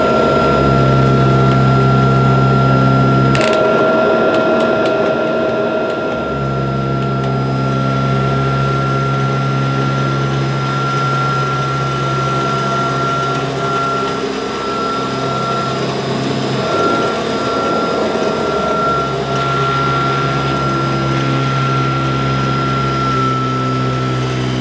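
Kirby Tradition upright vacuum cleaner running loud and close during a carpet mess test, a constant whining motor drone with a sharp shift near the start and slight changes in pitch as it moves.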